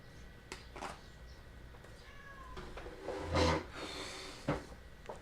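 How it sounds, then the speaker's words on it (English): A house cat meows to be let outside, giving a few faint, scattered cries and one louder meow near the middle, with quiet rustling in between. "he's just going to keep meowing until I, see what I mean?"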